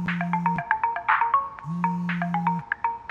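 A mobile phone rings with a bright melodic electronic ringtone of quick repeating notes over a low sustained tone, played twice in close succession.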